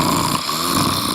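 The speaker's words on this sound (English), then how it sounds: "Snoring so loud you just can't sleep." Loud snoring from a sleeper, a single rough, buzzing, droning breath held close and steady for about a second.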